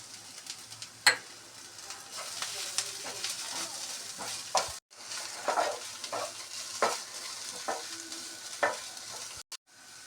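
Grated cucumber, coconut and onion being stirred in a hot pan for cucumber rice, giving repeated scraping strokes over a steady soft sizzle, close and moderately quiet, with no talking.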